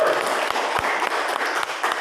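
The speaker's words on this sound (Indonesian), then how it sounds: "tepuk tangan lagi" An audience at a business motivational seminar breaks into a brief burst of steady clapping, moderately close and fairly dense.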